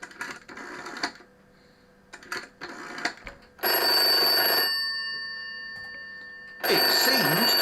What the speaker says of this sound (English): It seems to ring another phone.